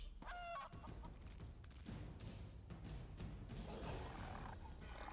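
Chickens in the video game The Elder Scrolls Online clucking and a rooster crowing, a cackling call at the start followed by scattered clucks over a rumbling, busy game ambience.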